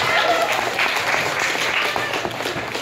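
A crowd at a stage hypnosis show bursts into a round of applause, many hands clapping loudly at first and then gradually thinning and fading over a few seconds.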